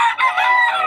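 A rooster crows once, loud and close, in a single drawn-out call at a roadside poultry market in Bocaue where chickens are being sold.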